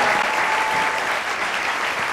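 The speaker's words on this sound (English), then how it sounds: "Let's give him a big round of applause." Steady audience applause at a National Geographic Bee, a dense, even wash of clapping heard up close without pause.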